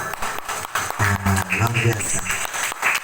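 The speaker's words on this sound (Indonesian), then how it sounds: "Tepuk tangan dulu." Audience clapping at a village youth seminar for a Karang Taruna youth organization, a steady patter of hands running under a man's loud, close speech throughout.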